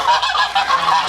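Geese honk loudly and continuously in a close, overlapping chorus of harsh calls lasting about a second, with no talking.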